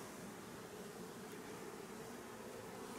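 Honeybees buzz at beehives in a faint, continuous drone that holds steady from start to finish.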